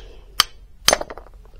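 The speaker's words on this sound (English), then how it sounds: "you take the glass and use a hammer" A tack hammer strikes a thick dalle de verre glass slab twice, each hit a sharp close clink, the second followed by small tinkling chips settling.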